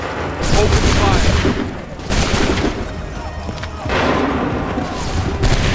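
Musket volleys from Assassin's Creed III Remastered: booming, crackling gunfire from a line of soldiers, several loud overlapping salvos with brief lulls between them, heavy and close.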